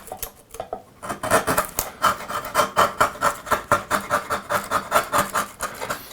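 Sharp chisel paring end grain from a wooden tenon, a rapid series of scraping, shaving strokes in a steady rhythm, close and fairly loud, with no talking.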